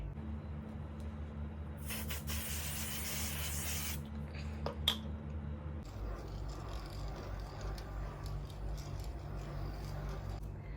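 L'Oreal makeup setting spray misted onto a face: a long, loud hissing spray burst of about two seconds, then a brief second spritz, under a steady background hum.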